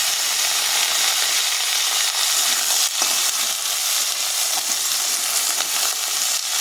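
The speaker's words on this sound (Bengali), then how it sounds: "কড়াতে তেল পাঁচ ফোড়ন দিয়েছি এখন কেটে রাখা দিয়ে দেবো" Cut vegetables, among them eggplant, carrot and pumpkin for an onion-greens curry, go into hot oil with panch phoron in a wok, producing a loud, dense, continuous sizzle that holds steady from start to finish, up close.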